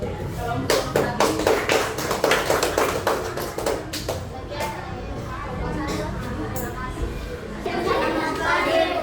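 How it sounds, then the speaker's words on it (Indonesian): A class of schoolchildren claps for the previous group: a burst of close, uneven hand claps that gradually thins out, with children's chatter and a speaking voice mixed in. "Ya, tepuk tangan. Kelompok tadi."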